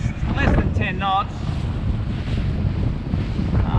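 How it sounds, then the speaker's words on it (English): A southwesterly breeze under 10 knots blows across the sea during a fishing trip, with steady wind buffeting and rumble against the microphone and a gentle wash of water, plus a brief faint tonal sound near the start. "The winds are kind of southerly, southwest, it's less than 10 knots."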